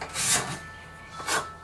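A hand scraper drawn across a wooden binding strip in two distinct rasping strokes, the first near the start and the second near the end, close and fairly loud with a quieter pause between.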